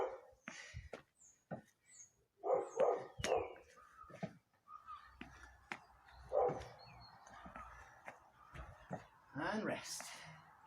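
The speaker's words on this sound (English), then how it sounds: "A little bark in the background." A small dog yips and barks a few times in the background during an indoor exercise session, short sharp bursts mixed with a person talking and whispering nearby.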